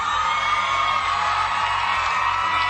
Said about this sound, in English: The ladies do love you. Listen to them scream.